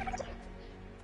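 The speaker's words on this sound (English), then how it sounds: "That's them killing this dodo bird." A dodo bird being killed in a video game lets out a short, gobbling, turkey-like squawk near the start, then fades into a quiet game background without speech.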